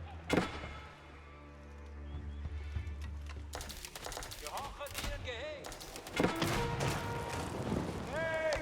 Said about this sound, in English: Cannon hit there.